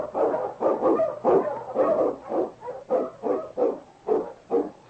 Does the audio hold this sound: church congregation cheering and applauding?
no